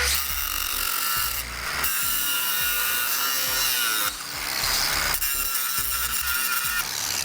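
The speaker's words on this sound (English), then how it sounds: "Now we'll take our grinder and we can remove that stud." An angle grinder cuts away a stud on a 2015 Jeep Cherokee during a tow base plate install, producing loud, harsh, continuous grinding close by, broken by a few brief pauses.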